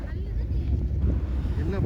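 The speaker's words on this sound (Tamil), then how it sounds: "ஒரு படகு கிளம்பிருச்சு" A boat heads out across calm, glassy sea water near a coral island, its low engine rumble and wind buffeting the microphone steady throughout the short stretch.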